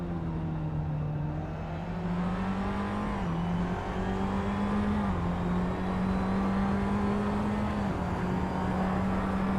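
Onboard in the cockpit of a Tatuus single-seater race car at Magione, the engine drones steadily and loudly at high revs, its pitch stepping up and dropping back through gear changes, heard close with no talk.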